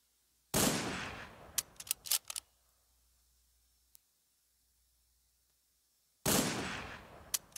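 Sniper rifle shots in a first-person shooter match, two loud sharp bursts with crackling echo tails several seconds apart, plus small clicks between them.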